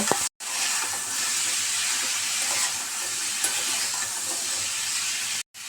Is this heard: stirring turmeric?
yes